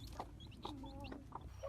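Backyard chickens clucking in short, close bursts, a few scattered calls over a steady low background rumble.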